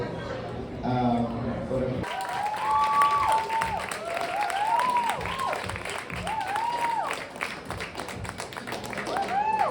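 Audience applause and cheering at a poetry reading, a crowd clapping steadily for about eight seconds after a brief lull, with whoops and voices rising over the dense patter.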